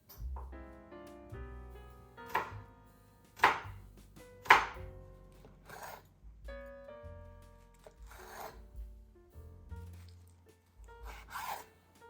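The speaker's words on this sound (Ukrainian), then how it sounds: "Для початку треба нарізати овочі." A knife chops vegetables on a board while preparing Uzhhorod-style carp, giving sharp, separate chops spaced irregularly over soft background music.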